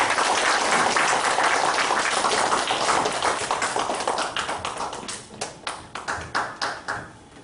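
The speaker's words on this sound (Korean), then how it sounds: "큰 박수로 환영해 주시기 바랍니다." An audience at a lecture claps in welcome, a full burst of applause that gradually thins out into a few scattered, separate hand claps before stopping.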